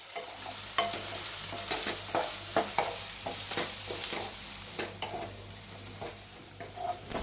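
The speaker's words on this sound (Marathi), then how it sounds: "आपण हे जे बारीक चिरलेले टोमॅटो आहेत हे सुद्धा घालूया आणि दोन्ही साहित्यात चांगले पूर्णपणे गळेपर्यंत आपल्याला शिजवायचं आहे" Chopped tomatoes and onion fry in a pan for mutton keema, a soft continuous sizzle under frequent spatula scrapes and clacks at an uneven pace, with a low steady hum behind.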